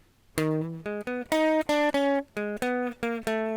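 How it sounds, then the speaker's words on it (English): A jazz guitar lick of about a dozen clear, sustained single notes played at a moderate pace, alone and fairly quiet. "so this is a jazz lick"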